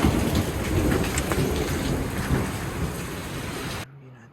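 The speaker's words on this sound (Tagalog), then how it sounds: "Ang lakas ng ulan." Heavy rain roars down with rumbling thunder in Canada, a loud dense wash of drops and low booming that fills the scene, then cuts off abruptly near the end.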